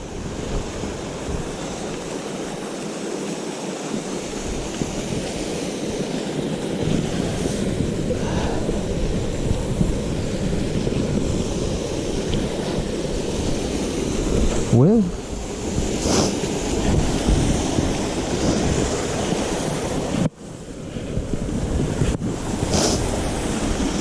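A small waterfall on Meigs Creek Trail roars with a steady, broadband rush of falling water throughout, with gusts of wind buffeting the microphone and a brief dip in the noise near the end.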